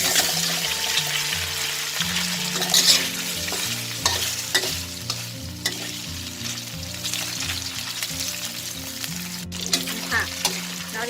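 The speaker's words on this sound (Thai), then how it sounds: "ทอดในน้ำมันเป็นสีเหลืองก่อนนะ" Oil sizzles and crackles steadily throughout as cubes of radish cake fry, with occasional stirring clinks and a low humming tone underneath.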